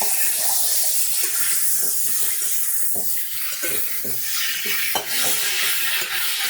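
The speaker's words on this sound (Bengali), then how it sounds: "আদা রসুন বাটা দিয়ে ভালো করে আমি 2 থেকে 3 মিনিট কষিয়ে নেব।" Vegetables and spices sauté with ginger-garlic paste in a pan over a medium flame, giving a steady, close sizzle with scraping stirs throughout and no talking.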